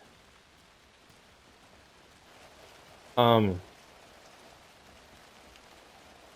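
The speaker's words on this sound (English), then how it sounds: "speaking of this rain falling around us, audio direction is also amazing in this game." Steady soft rain hiss falls throughout a scene in the video game Alan Wake II, with one short spoken word cutting in briefly midway.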